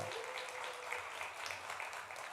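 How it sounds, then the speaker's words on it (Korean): A church congregation applauds during a Sunday service to welcome a missionary to the front, a steady, moderately distant wash of clapping that continues without a break. "박수로 환영합니다."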